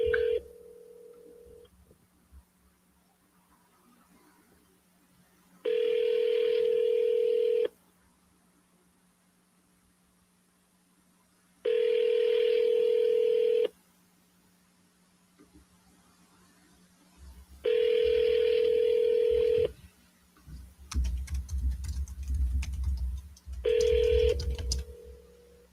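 A phone call in progress: a steady tone followed by a repeating ring-back pattern of long buzzy bursts separated by silences, fairly faint, with some rustling noise near the end.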